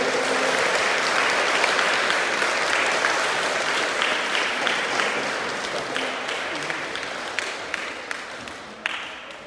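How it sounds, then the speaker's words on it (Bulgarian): A school audience at a Christmas play gives sustained applause for the school director, with many hands clapping steadily before the sound slowly thins out toward the end. "моля да аплодирате най-всеотдайният човек, когото познавам"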